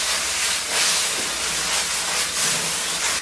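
Bok choy stir-frying in a hot wok, giving a loud, steady sizzling hiss with surging bursts of steam and spatter, close up with no talk.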